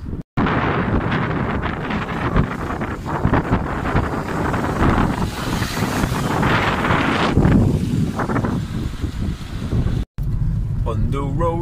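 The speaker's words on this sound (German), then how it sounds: "wie ihr hört, es ist extrem windig und ungemütlich" Strong wind roaring outdoors on a winter road trip toward the North Cape, a steady, loud buffeting rush across the microphone that lasts the whole stretch, with a brief voice near the end.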